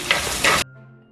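Garlic, curry leaves and green chillies hit hot oil while tempering for a Sinhala-style pumpkin curry, giving a loud, crackling sizzle for a moment before cutting off to near quiet.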